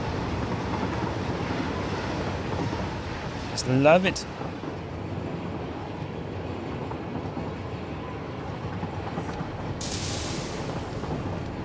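A train runs in the video game Satisfactory as a continuous low rolling rumble, with a short squealing burst early on, while a person talks throughout.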